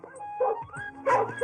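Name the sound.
dog barking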